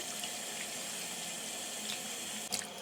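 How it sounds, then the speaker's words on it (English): Steady hiss of a running tap filling a sink, continuous and fairly close, with a faint splash near the end. "So I'm going to run the water now."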